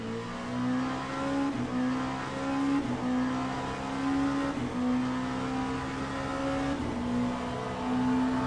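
LMP2 prototype race car engine in the Le Mans Ultimate sim racing game at Bahrain, a steady loud droning engine note that holds a high pitch with small dips and shifts, with faint tyre noise.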